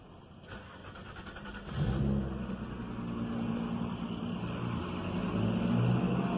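A Nissan Maxima engine idles, then revs up with a deep, swelling roar that holds loud and steady to the end.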